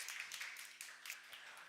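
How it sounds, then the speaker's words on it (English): An audience claps in a dense, steady round of applause for a finalist at a school competition grand finale, sounding faint and distant throughout. "give them a round of applause, please"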